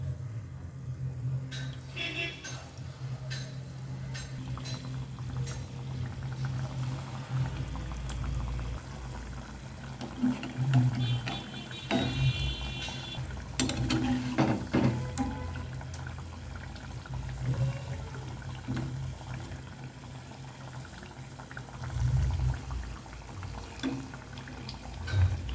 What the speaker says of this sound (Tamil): இப்படி பெரட்டி எண்ணெயில் போட்டுடலாம்.